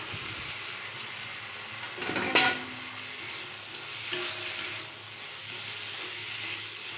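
Small potatoes fry in hot oil for aloo dum with a quiet, steady sizzle and one brief scrape of a spoon against the pan partway through.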